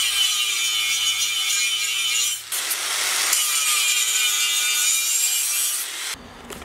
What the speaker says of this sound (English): I'll build all these up higher so I got something to grind down to reshape the edge of it.